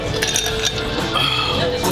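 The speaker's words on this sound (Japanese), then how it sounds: "じゃあ最後乾杯して終わりましょう" Glasses clink together in a toast at a stylish izakaya in Oyama, a bright brief chime or two set against steady restaurant chatter and background talk.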